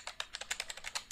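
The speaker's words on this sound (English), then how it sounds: "here we're going to click or type Internet" A computer keyboard is typed on quickly, about ten soft, evenly spaced keystrokes, faint and close with no voices.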